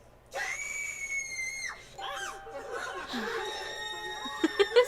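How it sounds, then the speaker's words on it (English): A person lets out a sustained high-pitched scream, followed by shrieking laughter and excited voices, with a few sharp louder bursts at the end. "Scream."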